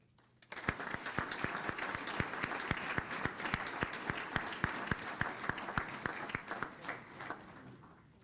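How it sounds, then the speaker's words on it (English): Sustained applause from the audience at a school board of education meeting, a dense steady patter of many hands with a few sharper individual claps, starting abruptly and continuing at an even level throughout. "Another round of applause, please."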